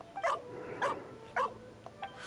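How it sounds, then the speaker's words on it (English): A dog in the video game Genshin Impact barks three times in evenly spaced, fairly loud woofs, followed by a couple of softer yips. "They're a lot louder than the other dogs who hang out in the background."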